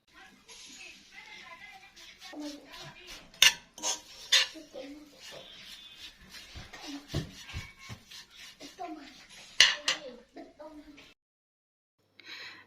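Taro is stirred in a pot on the heat with a utensil that scrapes and clatters against the metal in irregular bursts, some sharp knocks standing out, while someone talks over much of it.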